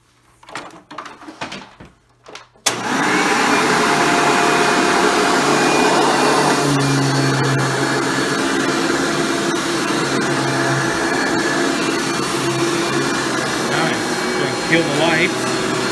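A Hoover Breathe Easy upright vacuum cleaner switches on after a few handling knocks, then runs with a loud, steady motor whine and airflow roar close by for the rest of the stretch.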